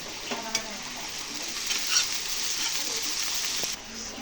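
Chopped onion, green chili and garlic frying in a pan give off a steady, fairly loud sizzle close by, with a few soft scrapes of stirring near the start and no talking.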